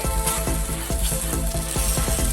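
Takoyaki cook on a Daiso cast iron plate over medium heat, a steady close sizzle punctuated by repeated light ticks and clicks as the balls are turned one by one.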